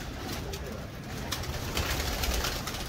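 A Firozpuri pigeon coos softly against a steady background hiss, the low murmuring call rising slightly toward the end.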